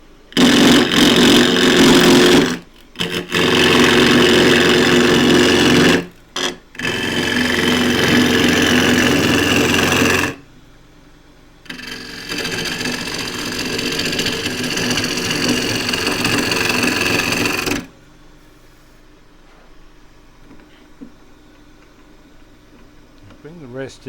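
Green elm being turned crossgrain on a wood lathe with a half-inch spindle gouge, a loud steady whirring hum in several long bursts separated by short stops, ending as the lathe spins down to quiet.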